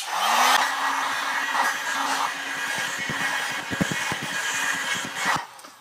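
A hair dryer blows steadily on wet acrylic paint over a pop art newspaper-style background, a loud continuous whoosh with a rising whine at the start, then a few soft knocks before it cuts off near the end.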